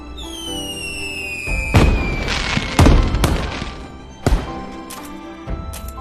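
In PUBG Mobile's new year mode, firecrackers burst in a run of booming blasts after a whistling launch, with several loud explosions spaced a second or so apart.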